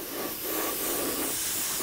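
Spray paint misting onto a helmet, a continuous close airy hiss from the spray can, steady and unbroken for the short clip, with no talk.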